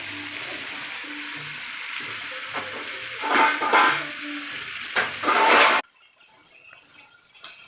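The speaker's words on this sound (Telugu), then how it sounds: "సిమ్లో ఉంచేసి దాన్ని ఫ్రై చేసుకోవాలి. ఇది మొత్తం ఉడికేంత వరకు ఫ్రై చేసుకోవాలి." Chicken liver fries over low heat in a pan, giving a moderate sizzle with a few louder bursts of stirring before it abruptly drops to near quiet.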